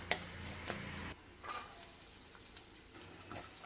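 Cluster beans go into a pan of hot oil with turmeric, giving a brief loud sizzle and clatter at first, then quieter scattered crackles and soft stirring noises.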